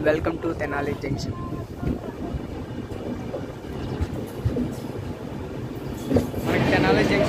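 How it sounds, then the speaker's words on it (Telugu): A passenger train leaves Tenali Junction, its coaches rumbling and rattling steadily up close. The noise grows louder toward the end, and someone speaks over it. "తెనాలి జంక్షన్ నుండి మంట్రాని అయితే బయలుదేరిపోయింది"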